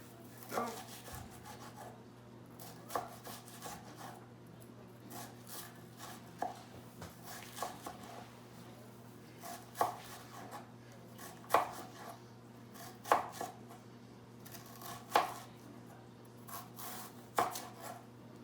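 A knife dices an onion on a cutting board, giving a steady run of crisp chopping taps that grow sharper and more regular toward the end, close and fairly quiet over a low background hum.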